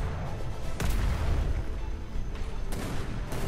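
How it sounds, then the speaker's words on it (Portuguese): Booming cannon blasts from the video game Atlas during an attack on pirates, a few heavy thuds spaced apart over a dense rumbling battle din. "Olha o cara do canhão, Camargo!"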